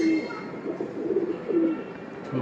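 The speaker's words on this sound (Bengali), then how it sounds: "আমার কালেকশন করা কবুতর" A collected racing pigeon from a tournament club, tagged 2019, coos in soft repeated low throaty calls, close and clear, with a few overlapping coos and faint background sounds.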